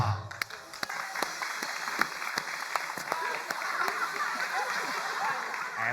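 Scattered, uneven hand claps ring out under a bed of chatter and background voices, never building into full applause.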